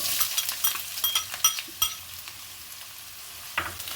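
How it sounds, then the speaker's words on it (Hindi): Onions sizzle in hot oil while a spoon scrapes and clacks against the pan several times, then goes quiet briefly before another scrape. "प्याज को हम यहाँ पर हल्का सा फ्राई करेंगे।"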